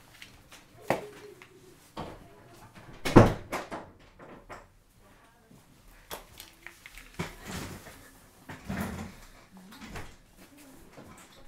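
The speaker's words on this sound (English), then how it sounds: "going to shut the door." Indoors, a door is handled with several knocks and bumps, and one sharp loud thump where it shuts. Quieter rustling and movement fill the gaps, and there are brief faint voices.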